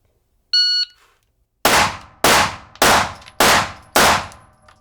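A handgun fires five rounds at a cardboard target in a slow, even cadence, each shot a loud sharp crack with a brief tail, preceded by a short electronic beep like a shot timer.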